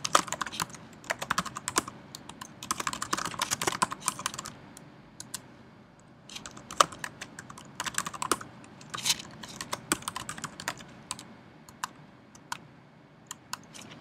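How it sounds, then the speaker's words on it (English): A company name being typed on a computer keyboard, quick bursts of close key clicks broken by short pauses, with no one talking. "So I'm gonna type in a company name here."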